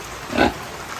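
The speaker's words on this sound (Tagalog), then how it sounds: "Ito kaninong baboy ito?" A pig on a farm gives a single short, close grunt over quiet background noise.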